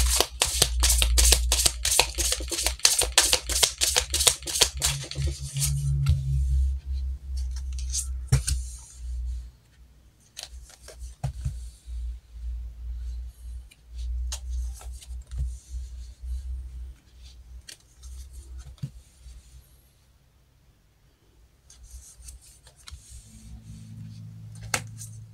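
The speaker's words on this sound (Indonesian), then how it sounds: "Kita shuffle kartunya." Tarot cards are shuffled close up, starting with a rapid run of riffling flicks and then moving into softer sliding and tapping of the deck, with a low hum underneath.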